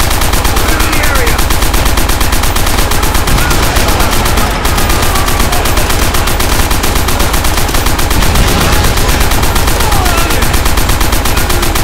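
Sustained, loud machine gun fire from the Call of Duty: World at War video game rattles without pause, dense and close, with other gunfire mixed into the battle din.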